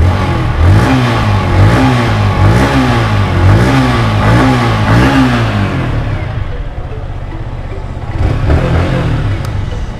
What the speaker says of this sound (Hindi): उससे पहले आपको इस बाइक का एग्जॉस्ट नोट को सुना देते हैं